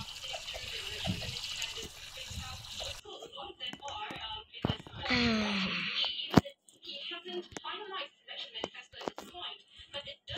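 Water runs and splashes during washing in the Roblox game Brookhaven, a soft trickling spray that shifts into other game sounds and voice-like noises.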